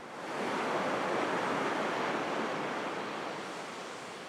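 Ocean surf breaks steadily onto a newly formed black-sand lava beach at sunrise, where molten lava streams meet the sea; a loud, continuous broadband wash of waves close by, with no voices.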